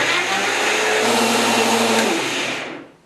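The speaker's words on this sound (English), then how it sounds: "we just finished blending our Eye Gone Bananas Smoothie" A blender whirs loudly and steadily as it purées a banana smoothie made with water, lid on, then winds down and stops near the end.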